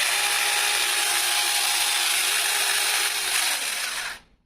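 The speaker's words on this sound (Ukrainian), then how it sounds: "пилка вмикається. Тобто вмикаємо." Cordless mini chainsaw from AliExpress running, a loud, steady high-pitched motor whine with chain buzz held close for several seconds, then cutting off abruptly at the end.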